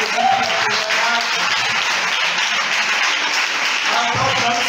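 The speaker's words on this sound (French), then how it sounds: "Quelqu'un acclame le Seigneur pour les témoignages." A church congregation applauds and acclaims Jesus, with sustained clapping and cheering voices blending into a continuous roar.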